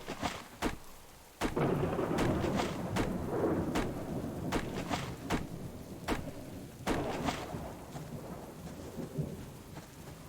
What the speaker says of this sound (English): It's a heck of a storm.